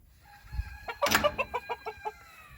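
A pair of large fowl buff chickens clucks softly nearby, a short series of rhythmic, evenly spaced clucks following one louder squawk, over a quiet background.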